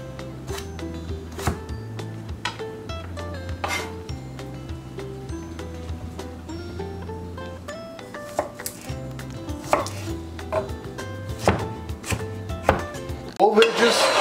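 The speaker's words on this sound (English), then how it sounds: "And now our last ingredient for chopping, some garlic." A knife coarsely chops garlic on a cutting board while a vegetable stew is prepared, with steady, crisp, close taps coming in quick bursts and short pauses.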